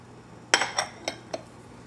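A utensil taps and scrapes against a bowl while beaten egg is mixed into a crab-less cake mixture with breadcrumbs, making four quick, light clinks spaced about a quarter second apart over a quiet background.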